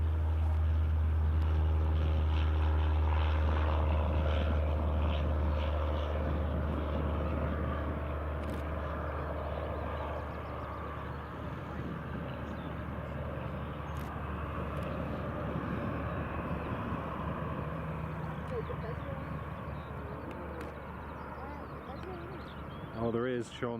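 Flying club light aircraft departing at Glasgow Prestwick Airport, a faint propeller engine drone in the distance that holds steady beneath a strong low hum and ongoing talk.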